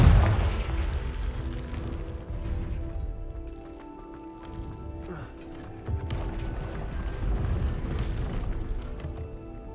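In the Hogwarts Legacy video game, a Confringo fire spell detonates with a heavy boom at the start, then rumbling, crackling bursts swell again later amid game effects.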